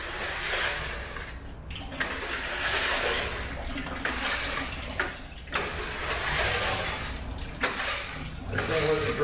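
Oil drains from a Ford 4R75E transmission that has no 3rd gear, a steady rushing, splashing pour close by that pauses briefly a few times before flowing on.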